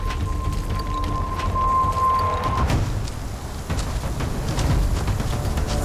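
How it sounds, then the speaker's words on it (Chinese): Heavy rain pours down during a typhoon with rumbling thunder, a dense steady downpour with a low roll building midway, loud and close, and a thin ringing tone briefly heard over it. "外面刮台风下这么大的雨"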